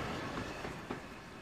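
Brief rumble of an AI-controlled train rolling along in the Railworks train simulator game, steady wheel and track noise with faint clicks throughout.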